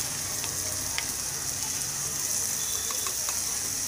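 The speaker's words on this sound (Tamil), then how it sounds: "தக்காளி நல்லா வதங்கட்டும்" Ground tomato paste fries in a pan with sautéed ginger and garlic for Chettinad mutton curry, giving a steady, close sizzle with a few faint stirring clicks and no talking.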